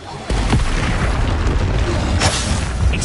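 Expulso blasting spell going off in Hogwarts Legacy, a loud booming blast that hits suddenly and then rolls on as a dense, sustained rumble with a second burst near the end, amid game effects.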